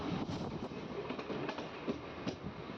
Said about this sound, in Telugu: ఫోర్త్ స్టాప్ అయిన ఉప్పులూరుకి మన ట్రైన్ చేరుకుంది.